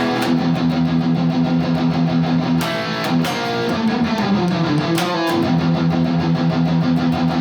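A distorted electric guitar plays a loud, chugging palm-muted riff with tight repeated low notes, briefly shifting to ringing chords before the chugs resume.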